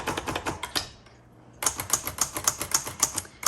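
Rapid keystrokes on a 1956 Hermes Rocket portable typewriter clack up close in an even, brisk rhythm, pausing briefly before resuming with a sharp run of crisp strikes.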